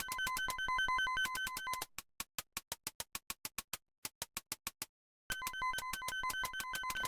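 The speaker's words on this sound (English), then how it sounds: "I like this typing sound. It's just constantly typing." Rapid clacking keystrokes from the typing sound effect in the video game Police Quest III, dense bursts of even clicks, then a slower run of separate taps with brief gaps, then dense clicking again, with no talk.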